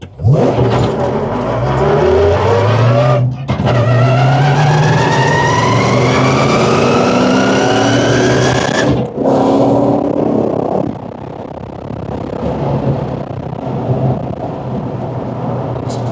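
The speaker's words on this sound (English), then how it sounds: "Typically what a supercar V8 would feel like." A supercar V8 launches hard from a standing start with traction control on, revving loud and close through rising gear sweeps, a brief shift break near three seconds and another near nine, then settling into a steady lower drone.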